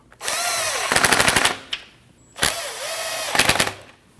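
A power tool fastens 8mm bolts on the radiator of a 2013-2019 Ford Escape 1.5L L4, giving two close, loud bursts of whirring followed by rapid ratcheting hammering, separated by a short pause, with no voices.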